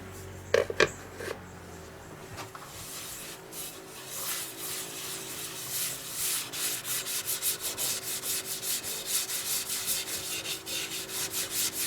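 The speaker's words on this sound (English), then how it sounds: "Applying some Yorkshire grit." A turned mesquite fruit bowl is rubbed with Yorkshire Grit abrasive as it spins, making a steady, close, rhythmic scrubbing friction that pulses evenly and builds slightly, after a few faint knocks at the start, with no talking.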